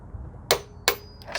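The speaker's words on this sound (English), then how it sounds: "I'm going to pull till I hear the click." Sharp clicks as a part snaps into place on a Ford Escape during a motor mount replacement, three crisp, close clicks spaced about a third to half a second apart over quiet background.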